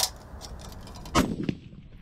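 A sniper rifle shot fired during team sniper training, a single sharp crack standing out over faint background noise, with a short fainter echo after it.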